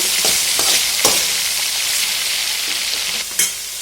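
A cauliflower and egg curry being stirred as it fries in a pan: loud, steady close sizzling with occasional scraping strokes of the spoon against the pan, and no talking.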